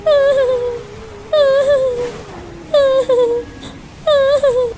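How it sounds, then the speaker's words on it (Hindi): Four wavering, high-pitched whimpering cries in short bursts with pauses between, close and fairly loud over a low background tone. "वह उस रोने की आवाज को सुन रहा था।"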